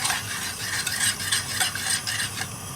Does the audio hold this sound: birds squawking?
no